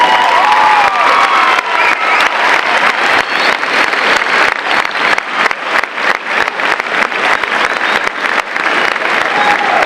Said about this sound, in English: That is applause.